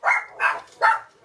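Indoor dogs bark at another dog heard in the stairwell, three quick sharp barks in a row, close and loud.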